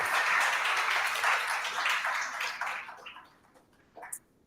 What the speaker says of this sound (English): Another round of applause for Patil Mixiartian.